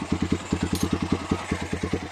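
A motorcycle engine with a 28 mm carburetor idles steadily after tuning, a close, even putter of rapid low pulses without stalling.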